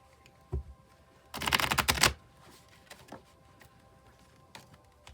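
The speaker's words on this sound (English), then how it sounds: "I'm going to shuffle one more time, and then I'll cut the deck" A deck of tarot cards riffled in one quick burst of rapid fluttering slaps, with a few soft taps and handling noises before and after in a quiet room.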